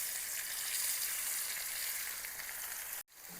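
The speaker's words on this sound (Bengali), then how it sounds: "সেই একই তেলে আমি পেঁয়াজ কুচি প্রথমে দিয়ে দেব।" Chopped onion hits hot oil in a pan while cooking a tangra fish curry, giving a loud, steady sizzle that cuts off abruptly near the end.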